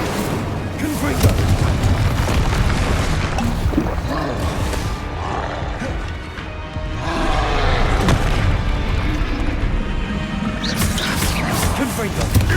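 Repeated Confringo fire-spell explosions in the Hogwarts Legacy video game, a dense run of loud booming blasts and crashes with little break, all at close range.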